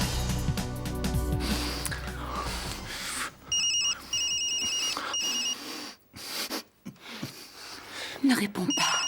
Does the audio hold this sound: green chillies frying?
no